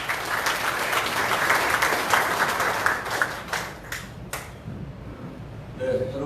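Applause from an audience at a Korean political party provincial chapter event, a dense crowd clapping that fills the first half, thins and fades toward the end with a few scattered claps.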